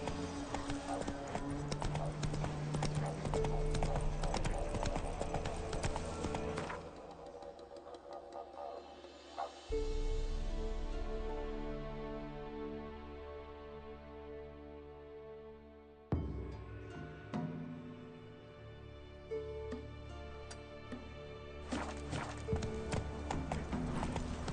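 Roach the horse galloping in The Witcher 3, continuous clip-clop of hooves at a fast steady rhythm mixed with game music and effects, quieter in the middle stretch before picking back up.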